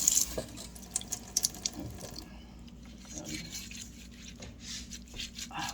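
Water running from a kitchen sink tap, a faint steady splash and trickle with a few sharper drips and clinks near the start, with quiet background noise.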